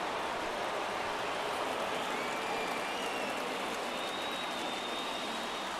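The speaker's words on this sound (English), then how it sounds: "Crowd locked in right now." Stadium crowd in the baseball video game MLB The Show 23 during a tense ninth inning, a steady broadband roar of murmuring fans that holds even throughout, with no voices standing out.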